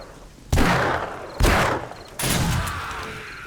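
Three loud, close magnum gunshots in the zombie survival game 7 Days to Die, evenly spaced about a second apart, each a sharp crack with a ringing decay.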